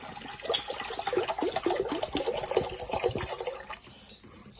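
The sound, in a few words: water being poured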